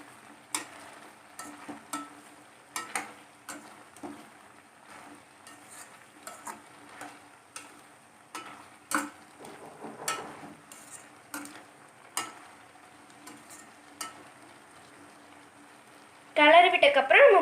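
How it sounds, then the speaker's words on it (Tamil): A spoon scrapes and knocks against a pan while aviyal, a mixed vegetable curry, is stirred, giving irregular close clicks and scrapes over a low steady background, then a louder rustling burst at the end. "அப்புறம் திருப்பி நல்லா கிளறி விட்டுக்கலாம்."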